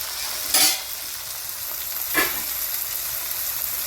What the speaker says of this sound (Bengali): সব সবজি নরম হয়ে গেছে, আর এবার একটু ভালো করে আমরা মিলিয়ে নেব